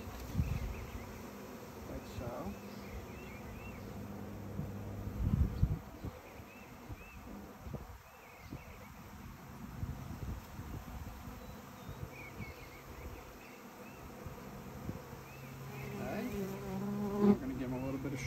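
Honey bees hum and buzz steadily around a hive throughout, a dense droning swarm close by, with occasional handling noises and faint voices.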